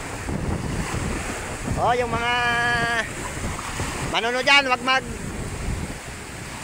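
Strong wind and surf roar along a seashore after a typhoon, a steady broadband rush of waves and gusting wind buffeting the microphone, with someone talking over it throughout.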